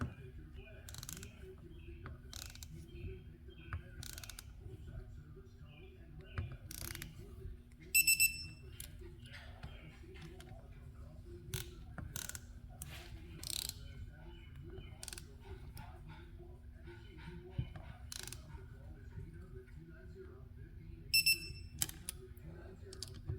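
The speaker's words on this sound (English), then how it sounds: "Okay, I'm going to start torquing these bolts." A torque wrench tightens engine case bolts on a Honda TRX250R ATV build: faint clicks and ratcheting ticks sound at intervals, with two short bursts of electronic beeping around 8 and 21 seconds over a low steady hum.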